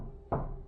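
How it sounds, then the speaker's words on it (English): A single sharp knock lands on a wooden cabin door, close and brief, against a quiet low background. "the door they were knocking on was literally just a couple feet from me"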